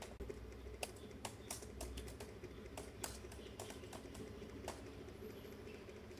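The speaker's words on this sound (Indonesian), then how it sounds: "Lalu di sini kita ketik perintahnya seperti ini." A computer keyboard clicks in short irregular bursts as a command is typed, the keystrokes crisp and close over a faint, steady background hum.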